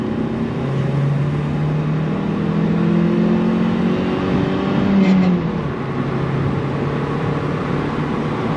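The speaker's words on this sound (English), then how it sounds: "Oh, we've got wheel spin." A Vauxhall Astra 2.0 estate accelerates hard from inside the cabin, its engine drone rising and holding loud throughout, with a brief surge near the middle as the wheels spin.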